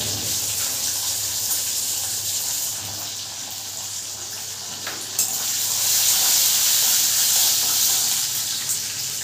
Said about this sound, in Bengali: বাদাম ভাজাটা হয়ে গেছে